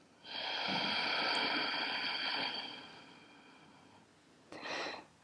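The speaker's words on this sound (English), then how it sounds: "So for Ujjayi breath, you're breathing in through the nose" Ujjayi breath is drawn through the nose in a slow yoga flow: one long, steady, breathy rush for about two seconds that tapers off, then a second short, soft breath near the end, close and with no talk.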